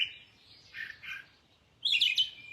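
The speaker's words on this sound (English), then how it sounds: "These birds are cracking me up." Soft bird tweets followed by a louder, busier burst of chirping near the end, in otherwise quiet surroundings.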